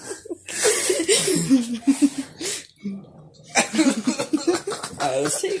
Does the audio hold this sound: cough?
yes